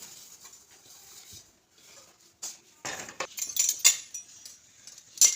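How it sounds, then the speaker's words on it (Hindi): Metal wedding dowry spoons clink and jingle as they are handled, a series of light, irregular chinks and rattles close by, growing busier toward the end. "ये हैं जी मेरी शादी के चम्मच और मेरे जहेज़ के।"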